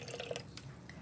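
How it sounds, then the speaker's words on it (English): Vinegar poured into a narrow-neck bottle for a fruit fly trap, a faint, short trickle with gurgling drips, quiet and close, with no voices. "So we're going to pour just enough in there."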